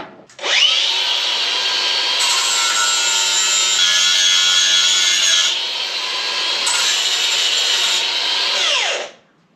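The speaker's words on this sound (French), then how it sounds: "Je vais chercher la meuleuse. Je vais raboter un peu chaque côté." An angle grinder trims the sides of a radiator on a Land Rover 100 90, spinning up, then grinding steadily in a loud, harsh, continuous whine with a slight drop midway before winding down.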